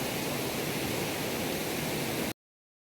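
Continuous rushing hiss of a hidden waterfall, an even wash of falling water heard up close, constant in level until it cuts off abruptly near the end.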